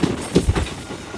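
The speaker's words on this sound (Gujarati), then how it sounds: "અહીંયાથી આપણી ટ્રેન એનો રૂટ ચેન્જ કરી લે છે એનો ટ્રેક ચેન્જ કરી લે છે" The Rajkot–Bhuj daily special train rolls along the track with rhythmic clattering wheel thumps and a low rumble, loud and close, with no voices.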